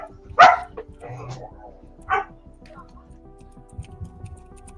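A dog barks at home during an action figure collectors' show, with two sharp barks a couple of seconds apart over people talking and faint ticking clutter in the background.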